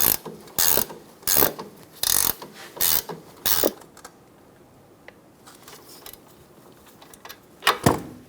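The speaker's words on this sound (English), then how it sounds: "Using an 18mm wrench and a 6mm hex head, we're going to snug down the nut for the sway bar link." An 18mm wrench snugging the sway bar link nut on a 2012-2020 Chevrolet Sonic, giving five loud mechanical ratcheting clicks in a steady rhythm, then quiet, then one more burst near the end; no talking.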